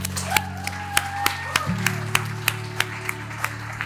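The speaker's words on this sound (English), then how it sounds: "Round of applause for Mr. and Mrs. Vincent." Wedding guests clap in a steady, rhythmic beat at a couple's wedding, the sharp hand claps landing at regular intervals over sustained background music.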